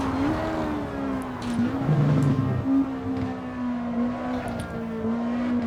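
A V12 race car engine in a 1960s sports car racing game at Riverside holds a steady high drone, with pitch dipping and rising through gear changes and a brief lower note from another car.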